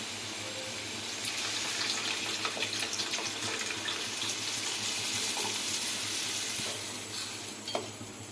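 Tamarind water pours steadily into a hot pan of curry, a continuous watery rush with faint sizzling underneath, no voices.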